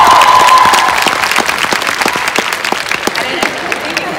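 Convention crowd applauding during an interview with an actor, a brief burst of clapping that quickly thins out as a voice speaks over it.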